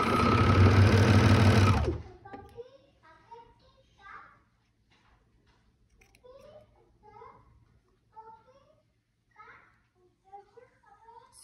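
A sewing machine runs a quick, steady burst stitching a romper seam, then stops, leaving faint handling clicks and scattered quiet sounds.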